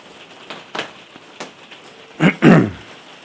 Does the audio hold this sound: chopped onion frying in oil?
no